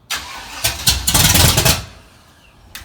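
A car engine cranks with a rapid, uneven churning and then catches into a ragged rev, loud and close, before dropping back to a low idle, with a short burst at the end.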